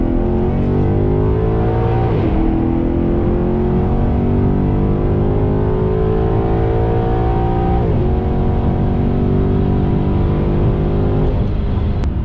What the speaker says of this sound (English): Let's just listen to a nice acceleration.